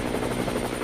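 A helicopter sound effect in a dramatic comic-book reading: a dense, continuous rotor chop with steady rhythmic thumping, loud and close, filling the short moment without any voices.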